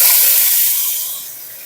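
Ginger paste hits hot oil in a spice tempering for a village fig dish, a loud steady sizzle with steam hiss that fades gradually over a short moment, no talking.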